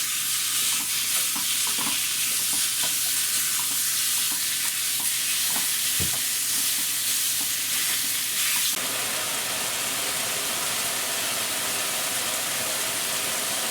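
Diced beef browning in a very hot pan for chili beans, a loud continuous sizzle with scattered scraping stirs and one sharp clack, the sizzle growing harsher and denser near the end.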